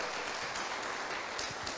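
A church congregation applauds in a dense, continuous wash of clapping that stays steady for the whole short moment, with no voices above it.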